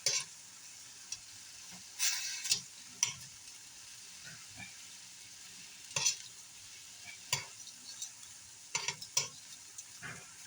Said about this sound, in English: Cook them for a minute. Once they start to curl, flip them.